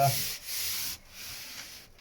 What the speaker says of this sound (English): So I'm just sanding some of them out.